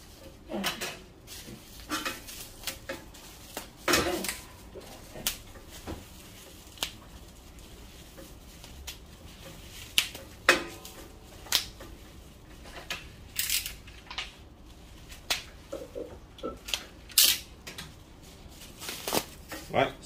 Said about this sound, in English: let me cut off the taping on the power